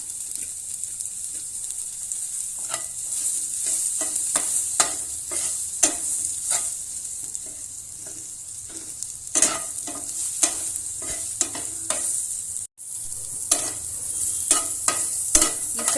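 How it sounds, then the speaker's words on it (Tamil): Chopped onions fry in the oil left over from pan-fried fish, giving a steady close sizzle broken by frequent sharp clinks of a stirring spoon against the pan. "இந்த வெங்காயத்தை வந்து நல்லா ஃப்ரை பண்ணிக்கணும்"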